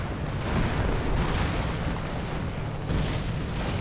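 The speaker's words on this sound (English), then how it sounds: "Panzer Strikes are flying." Panzer strike explosions in a WWII strategy video game, a dense, continuous roar of blasts and booming artillery that stays loud throughout, with overlapping detonations.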